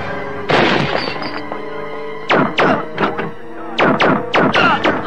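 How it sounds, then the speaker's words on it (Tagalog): Sharp impacts in a Filipino action movie: an early loud burst around half a second, then clustered pairs of hard cracks in two volleys, close and forceful over a faint background. "Putok ng baril yun, ah!"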